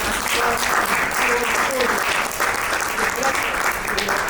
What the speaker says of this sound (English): Let us all give a round of applause to our keynote speaker